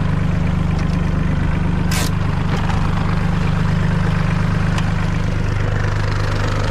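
A Solis 26 tractor idles steadily close by after ploughing, with the plough just unhitched: a constant low engine rumble throughout, plus a brief click or clank.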